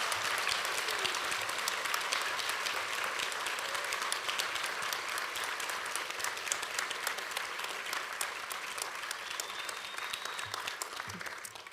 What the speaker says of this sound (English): I think we have a big round of applause for all our graduates today